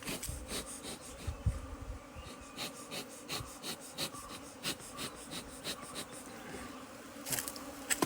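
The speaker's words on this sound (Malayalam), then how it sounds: "നമ്മൾ നാച്ചുറൽ ഹൈവിൽ നിന്ന് ഈച്ചേനെ വാരിയാണ്." Honey bees buzz in a dense, continuous drone while being scooped by hand from a natural hive, close and fairly quiet, with soft rhythmic rustles and taps from the handling.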